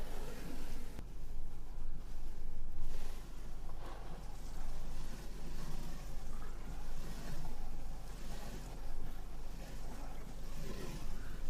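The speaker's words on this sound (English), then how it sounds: "this is a hose on jet mode." A garden hose on jet mode sprays hard against a car windshield while Scrubblade Platinum wiper blades sweep across the glass, giving a steady hissing, splashing wash with faint rhythmic surges, fairly quiet and continuous.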